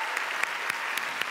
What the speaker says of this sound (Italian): a cui farei un bel applauso